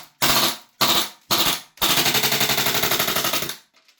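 A Krytac Maxim 9 gas blowback airsoft pistol fires three separate loud shots, then a rapid full-auto string of about two seconds whose bursts weaken as the gas runs low, heard close with no talking.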